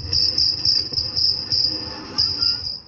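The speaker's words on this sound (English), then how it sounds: "This sound is made by an insect, okay? It's a cricket, very, very small." Cricket chirping replayed from a cassette recorder: a steady high-pitched trill in repeated bursts over a low tape hum, fairly loud and close, with no talking.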